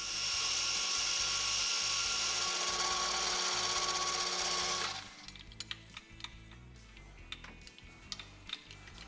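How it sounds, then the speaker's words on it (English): A lathe parts off the excess from a lead screw, a loud steady high-pitched whine for about five seconds that then stops, followed by scattered quiet ticks and clicks. "I'll pop the lead screw back into the chuck and part off the excess"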